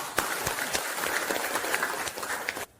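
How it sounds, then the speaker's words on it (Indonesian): A classroom group claps for the student groups who presented, a dense burst of applause from many hands that stops abruptly. "sekali lagi beri aplaus untuk setiap kelompok"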